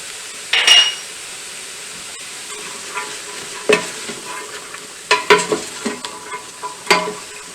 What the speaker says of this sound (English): peppers, oh, what a great smell. Get some garlic in there, the rest of that chopped garlic.